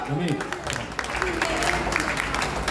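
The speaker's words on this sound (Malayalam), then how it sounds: "സ്നേഹപൂർവ്വം നല്ലൊരു കൈയടി നമുക്ക് കൊടുക്കാം." A crowd claps at a song-and-music stage show during a village festival, with a voice talking over the steady applause.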